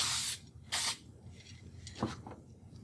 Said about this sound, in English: what I'm doing is spraying over it